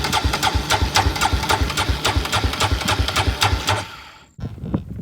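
A quad ATV engine runs just after ignition on a ranch, a steady, loud, rhythmic idle chug that cuts out near the end, followed by a few low thumps.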